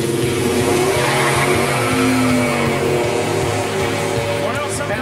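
A race car on street tires, driven by Greg Biffle in a Pass Time drag event, spins its wheels hard at launch. A loud, continuous roar of engine and tire squeal runs throughout, with voices talking over it.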